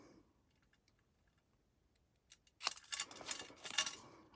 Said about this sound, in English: I'm going to just snip the corners off these tags.